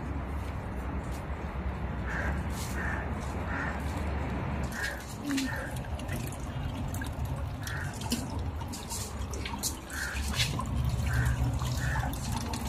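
Water trickling into a small backyard fish pond, with a steady splashing flow and light drips throughout, heard close and moderately loud, with no clear speech over it.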